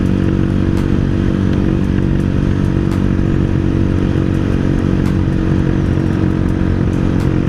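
Honda CB motorcycle engine running steadily close by for several seconds, a dense low rumble with faint clatter and scraping mixed in, without clear rev peaks.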